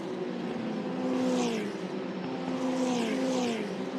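Formula Regional Asian Championship single-seater race cars run through a chicane, their engines a loud, continuous droning whine that dips and climbs in pitch as they brake and accelerate through the corners.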